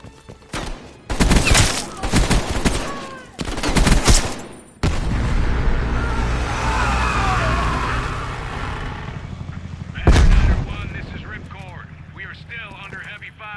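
Heavy gunfire in Call of Duty Black Ops Cold War, with dense bursts of automatic fire and a rumbling rotor-like drone, loud and close, and voices talking over the battle.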